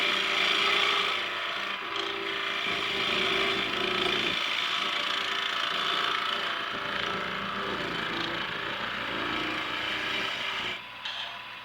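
A skew chisel rides its bevel on spinning wood on a lathe and starts to cut, peeling off shavings. A steady, loud scraping hiss runs with little change and briefly dips near the end. No one speaks.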